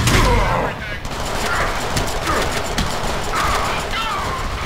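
Dense, continuous gunfire in the Deadpool video game, rapid rattling shots and explosions filling the whole stretch at close range, with a voice talking over the action.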